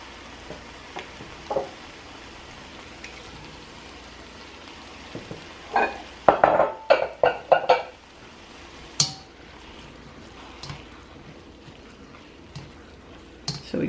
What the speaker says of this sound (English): And now lastly, we're going to add our shrimp.